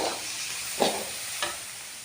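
Boiled cabbage being stirred into a cabbage poriyal in a pan, a soft sizzle with two distinct scraping strokes of a spatula and no talking.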